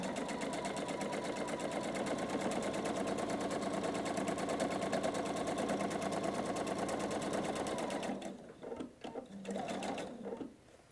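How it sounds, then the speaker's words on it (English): A sewing machine stitches quilt strips in strip piecing, a fast steady mechanical whir and rapid needle chatter running for about eight seconds, then stopping in a few short bursts. "bring them over to your sewing machine and sort of power sew"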